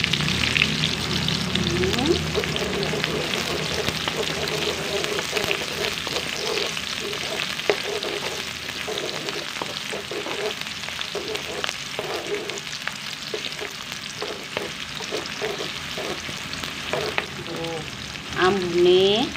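Shallots, garlic, ginger, bay leaves and galangal stir-fry in a pan for sambal goreng kentang krecek, a steady close sizzle broken by repeated scraping stir strokes, with no talk.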